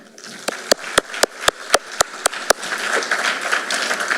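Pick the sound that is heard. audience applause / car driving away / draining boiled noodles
audience applause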